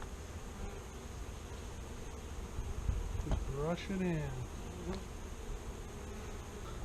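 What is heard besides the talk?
honey bees buzzing at hive during sugar treatment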